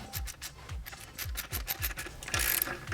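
Rapid ratchet clicks in a steady rhythm of about ten strokes, close and crisp, come from a wrench tightening an exhaust pipe clamp on a Honda CBR600RR, ending in a brief scraping rasp.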